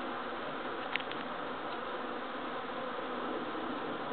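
A backyard honeybee swarm fills the air with a dense, continuous buzzing hum, steady and fairly loud throughout, with no voices.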